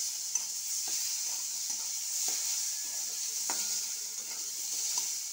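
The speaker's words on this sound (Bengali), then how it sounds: "এবার আমি কড়াই দিয়ে দেবো সর্ষের তেল, 5 ফোড়ন" Panch phoron spices sizzling in mustard oil in a wok, a soft steady crackle with scattered light taps and scrapes of stirring throughout.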